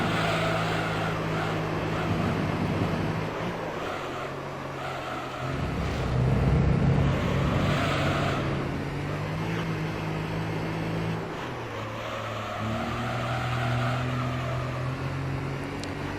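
A Toyota Supra race car engine in Gran Turismo 3 drones steadily, its pitch rising and dropping through gear changes, continuous and fairly loud with no talking over it.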